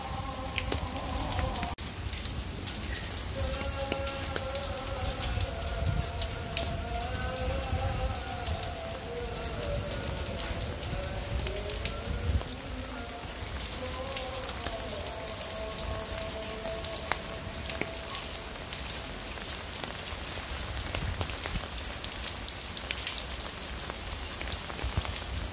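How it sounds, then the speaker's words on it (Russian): Steady rain mixed with hail falls over the Kidron Valley, a dense, even hiss of drops striking surfaces for the whole stretch, with faint tonal sounds in the background and no speech. "наблюдаем за дождем и градом над Кедронской долиной"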